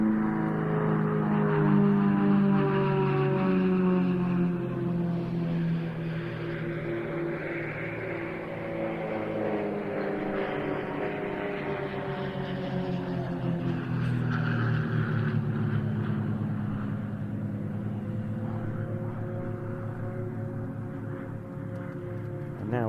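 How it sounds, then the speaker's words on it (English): Four jets crossing at an airshow, a broad, sustained distant engine roar that swells and fades over about twenty seconds with slowly shifting pitch, no talk. "Now, 2 aircraft from the left, 2 from the right for a crossover."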